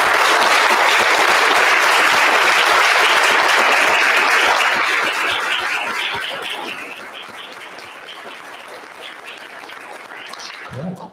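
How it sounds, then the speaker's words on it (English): A loud, dense ovation fills the hall at a medical school white coat ceremony as faculty stand and clap for the graduating class, holding strong for several seconds before gradually thinning out and fading. "giving a round of applause to our"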